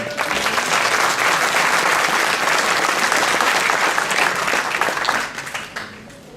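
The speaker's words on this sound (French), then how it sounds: "je crois qu'on peut l'applaudir aussi" An audience in a village gathering applauds a musician, a full, continuous wash of many hands that holds steady for several seconds before thinning out and fading at the end.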